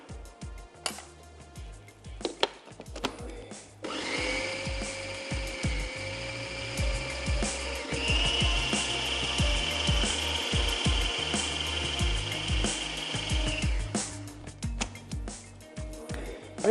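A countertop grinder churns a coarse lentil (daal) mix for kababs, a steady loud whir running for about ten seconds with a pitch shift midway, framed by clinks and handling noises before and after.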